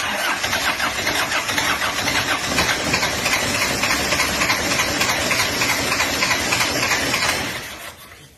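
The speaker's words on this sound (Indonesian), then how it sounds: "Starter 23 mau turun mesin, tapi sebelumnya kita hidupkan dulu." A motorcycle engine with a worn, seizing cylinder liner is started and idles roughly, a loud steady mechanical rumble held close for several seconds before cutting off at the end.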